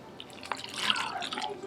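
Hot tap water poured into a bowl for tortilla dough, a faint splashing trickle with a few distinct drips, building into a soft continuous pour near the middle before easing slightly.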